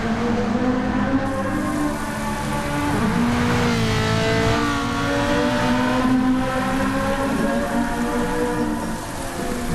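Rain falls during a car race in a video game, a steady hiss spread evenly across the scene over a loud, continuous engine drone whose pitch shifts slightly as the car runs.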